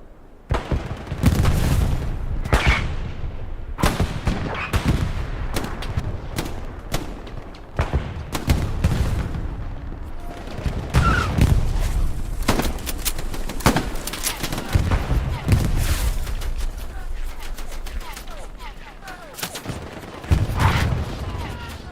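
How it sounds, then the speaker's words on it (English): Grenades and rifle fire ring out in the World War II shooter Hell Let Loose: a dense run of sharp gunshots and heavy booms, loud and close, going on almost nonstop with muffled chatter underneath. "These guys just throwing shit ton of nades?"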